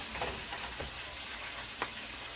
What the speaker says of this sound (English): I'm still frying chicken in the background